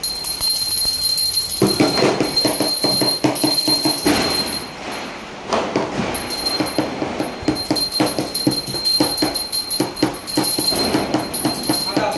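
A hand bell rings steadily with a bright, sustained metallic tone that carries on for several seconds over background noise, during Lakshmi Puja at home.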